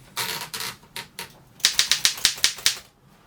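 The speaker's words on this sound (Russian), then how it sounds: "2 ручки для прокручивания вала." Turning the platen knobs on a 1936 Ideal typewriter makes a string of sharp, close ratcheting clicks. A few spaced clicks come first, then a quicker, evenly paced burst of about eight.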